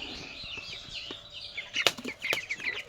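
A young chicken flaps its wings in a few quick bursts close by, with soft clucks and chirps around it and no talking.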